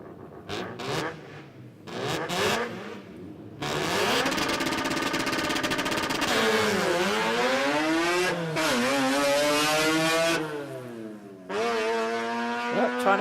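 RX2 rotary drag car from Chipping Norton launching and accelerating down a drag strip at a Sydney jamboree, loud buzzing engine note climbing through several gear changes with brief drops between shifts, sustained close and loud to the finish line.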